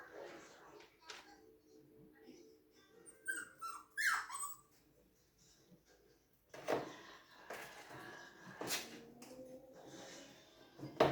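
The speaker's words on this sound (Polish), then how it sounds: "Nie szczekamy na Baksia" A dog whimpers, yips and gives short barks indoors, with bursts spread irregularly over several seconds while people speak now and then in the background.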